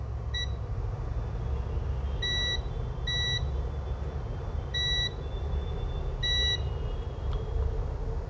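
A multimeter's continuity beeper sounds in several short, sharp electronic beeps at irregular intervals over a steady hum while capacitors on a circuit board are tested for a short, with no talking.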